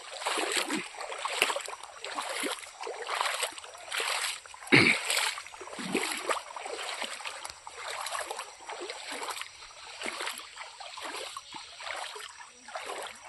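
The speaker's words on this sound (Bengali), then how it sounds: "আমরা এখন হাত পা ধুবো কারণ কাদায় যা ইচ্ছা তাই অবস্থা দেখো জল জমে আছে" Water splashing and sloshing as hands and feet are washed after walking through a muddy field with standing water, in irregular close splashes with one sharper slap midway.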